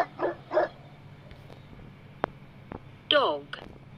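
A dog gives two quick barks, falls quiet apart from a few soft clicks, then lets out a louder whining yelp followed by a short final yip, close and distinct.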